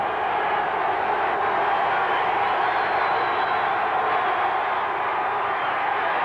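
A stadium crowd at a 1985 Washington Redskins at Pittsburgh Steelers football game roars in a steady, dense wall of cheering, distant and sustained throughout with no clear breaks.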